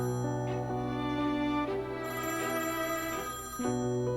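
Mobile phone ringing from a kitchen in a home, a steady melodic ringtone playing continuously with repeating tonal phrases, moderately loud and without speech over it.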